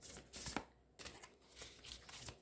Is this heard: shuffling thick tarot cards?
yes